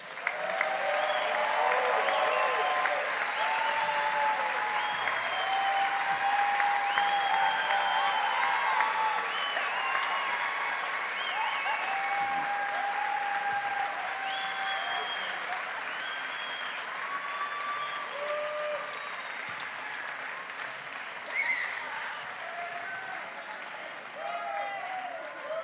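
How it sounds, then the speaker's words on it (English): Sustained applause from a large audience honoring a dental school class at a white coat ceremony, steady and full for about twenty-five seconds with a few voices and cheers mixed in. "round of official applause now to the class."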